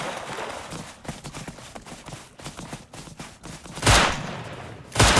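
Gunshots in the game Rust, a patter of quick light shots and footfalls followed by two loud close blasts near the end.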